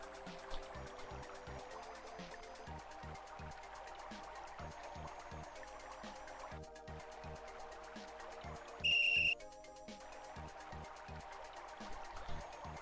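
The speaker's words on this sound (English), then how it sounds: "It's a magic whistle." A magic whistle blown in the 1993 Amiga/CD32 game Simon the Sorcerer gives one short, bright whistle tone lasting about half a second, set against steady looping game music with a repeating rhythmic beat.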